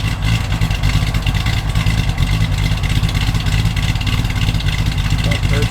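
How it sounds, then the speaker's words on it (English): A cold big block V8 in a 1953 Chevrolet Bel Air runs loud and close, a rough, rumbling idle with a deep steady low throb and slight revving throughout. "Yeah, nasty sounding big block."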